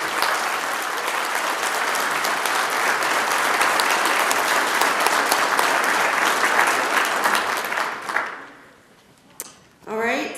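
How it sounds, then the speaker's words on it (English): Sustained, steady applause from an audience at a police department awards ceremony for the award recipients, continuing for several seconds before dying away as a voice begins speaking. "We just have one more round of applause for all the recipients this evening."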